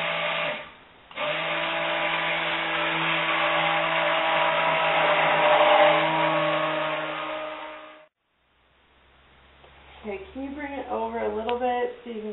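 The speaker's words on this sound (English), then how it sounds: "I'm going to go in short bursts and then stir it, because you don't want to get a fake trace." A blender mixing a first batch of cold process soap gives one sustained whirring burst of about seven seconds, then cuts off, and a voice follows briefly near the end.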